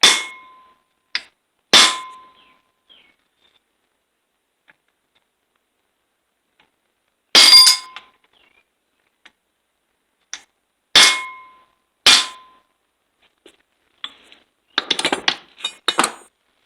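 Hammer blows ring out on a stacked pile of steel washers during a Sovema EM 272 finish mower repair: sharp metallic clangs in irregular bursts with long silent gaps, ending in a rapid flurry of lighter taps.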